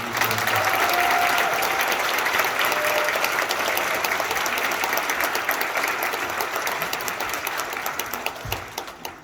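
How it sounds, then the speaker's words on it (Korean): Loud, dense applause from a church congregation fills the whole stretch, steady at first and then thinning slightly toward the end, with no voices over it. "박수 한번 부탁드립니다."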